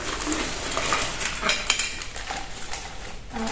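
Plates clink and clatter as they are lifted and stacked while a box is unpacked, with close, busy ceramic knocks and rattles continuing from start to end.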